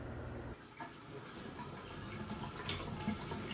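Water runs steadily from a faucet after frozen pipes thaw, a continuous hissing rush at moderate level with no talk over it.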